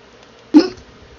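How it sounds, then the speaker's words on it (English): A single sharp hiccup, loud and close, with a brief throaty release and no other sounds around it. "I got the hiccups."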